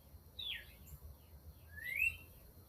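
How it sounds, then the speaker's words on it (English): Birds chirp in the background on a quiet morning, with a few faint, sweeping calls over a low steady hum. "You can hear the birds in the background,"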